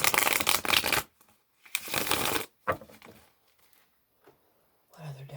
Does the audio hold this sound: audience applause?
no